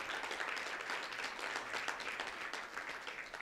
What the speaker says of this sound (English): All right, everyone, one more time, just a round of applause for everyone today.